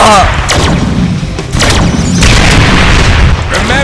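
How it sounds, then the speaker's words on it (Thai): Loud, heavy booms from rocket attacks in the Deadpool video game hit one after another at close range, with a crackling rumble between blasts. "Remember, you have a teleporter to dodge those rocket attacks."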